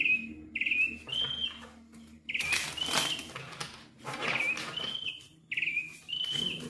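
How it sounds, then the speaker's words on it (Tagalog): Small birds chirping and whistling outdoors in repeated bright phrases with short gaps, fairly faint, over a low steady background. "Ingay ng mga ibon."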